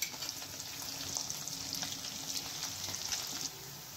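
Onions frying in oil for a brinjal and potato curry, a steady close crackling sizzle that runs without a break and eases slightly near the end.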